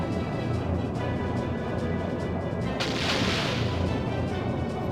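A ship's torpedo attack in a Skies of Arcadia sky battle rumbles as a steady heavy barrage of thuds, then a louder hissing blast surges up midway and washes out slowly.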